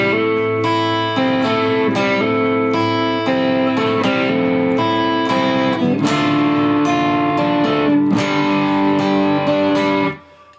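Electric guitar plays a song's verse, continuous strummed chords with a slightly driven tone, loud and close, ringing steadily for about ten seconds before stopping abruptly, with no talk.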